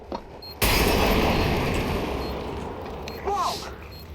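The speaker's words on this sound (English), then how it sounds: "I'm throwing fire." A molotov fire thrown on Nuke in Counter-Strike, a sudden loud whooshing burst of flames that roars steadily for several seconds with a brief crackling flare near the end.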